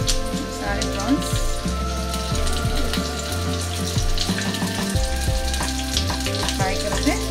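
Prawns shallow fry in very hot oil, a loud dense crackling sizzle that runs without a break while music plays in the background.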